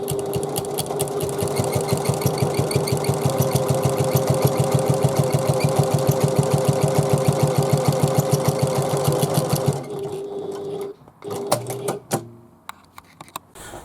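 A sewing machine top stitches a pocket on an NCW bag, running a loud, steady rapid rhythm of needle strokes for about ten seconds before stopping, followed by a few sharp clicks and handling sounds. No one speaks.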